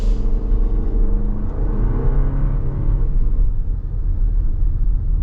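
A turbocharged Toyota Grand Highlander Platinum engine pulls steadily under acceleration, a continuous loud rumbling drone with rising harmonics inside the cabin, no talking.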